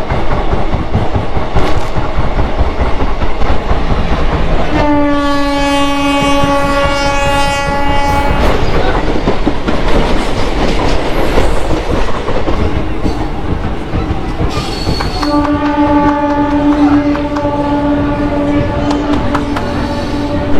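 The Kolkata–Digha passenger train 03161 rumbles loudly and steadily along the track, with two long horn blasts sounding over the continuous rolling noise.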